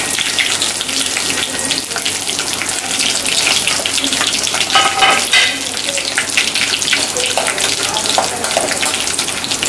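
Fennel seeds and three dried red chillies fry in hot oil for a mutton gravy, making a loud, dense, continuous sizzle and crackle close up that runs throughout, with no talk over it.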